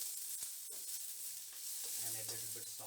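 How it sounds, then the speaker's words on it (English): Faint, steady sizzling of onion frying in oil in a pan, with a few soft stirring scrapes and a low hum underneath. "I will put the onion for frying"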